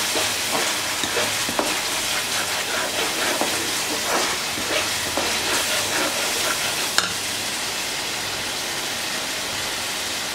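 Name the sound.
spice masala frying in ghee for morog polao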